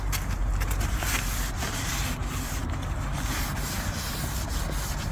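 Paper towels wipe a car's door opening while it is prepared for winter, making a close, continuous scratchy rubbing noise with no pauses.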